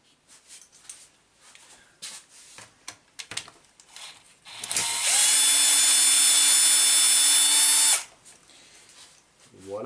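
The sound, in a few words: screwdriver bit turning a screw on a Losi SRR RC car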